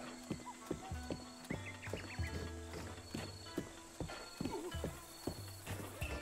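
Horse in The Legend of Zelda: Breath of the Wild, with steady hoof clip-clops at a walking pace, occasional snorts and game music in the background while a person speaks over it.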